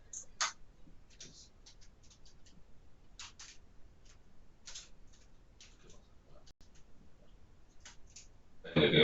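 Sparse, quiet clicks tap out an irregular rhythm of single and clustered strokes on a computer keyboard during a statistics class, ending in a brief louder burst.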